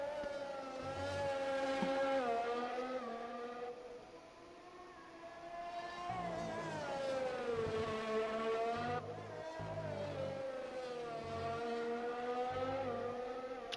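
F1 car engine screams through a lap of the Russian Grand Prix in an F1 esports game, a high whining pitch rising and falling with each upshift and braking zone, steady and fairly close.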